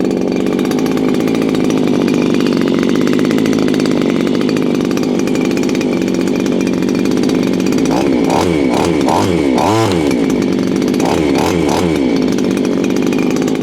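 A VEVOR compact gas string trimmer's small two-stroke engine runs loudly and continuously, buzzing steadily with a few brief revs in the middle.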